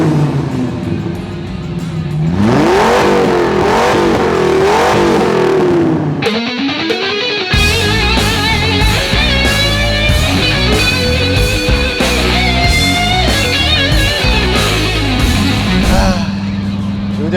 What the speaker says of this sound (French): conduire une Dodge Viper, c'est quelque chose. J'ai pas trop les mots, alors je vous laisse avec le son du moteur.